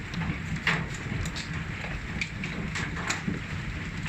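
Big hailstones pelt down during a Colorado Springs, Colorado hailstorm, making a dense, steady patter with scattered sharper knocks from individual stones striking nearby.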